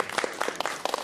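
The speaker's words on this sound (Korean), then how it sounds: "박수 한번 쳐줘야 돼요." Children in a church class clap for a classmate who answered a question, a short burst of a few uneven claps, brief and fairly close.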